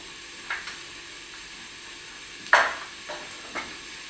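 Steady soft sizzling of vegetables sautéing in a pan for vegetable dal khichdi, with a few light stirring scrapes now and then, close and quiet.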